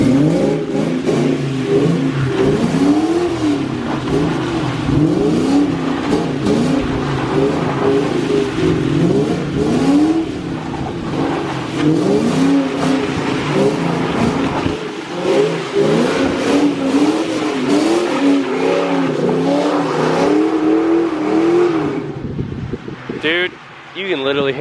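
A Ford Mustang engine revs hard against its rev limiter in repeated rising and falling surges, loud and close, with voices talking over it.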